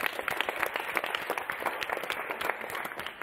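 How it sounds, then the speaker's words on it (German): Audience applause at a televised final show, dense steady clapping from a crowd filling the whole stretch without a break, moderately loud and continuous. "Das verdient auch einen Applaus."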